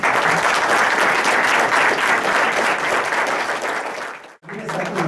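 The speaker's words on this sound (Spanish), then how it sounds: "Pido también un aplauso para el doctor." Audience applause for a doctor at a university book presentation, a dense, loud, steady wash of many hands clapping that breaks off abruptly near the end, followed by a brief lower murmur.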